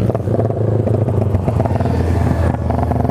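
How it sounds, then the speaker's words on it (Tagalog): An R150 motorcycle runs flat out at top speed, its engine giving a close, loud, sustained high-revving buzz with a slight rise and fall in pitch throughout. "Grabe sa dulo yung motor mo."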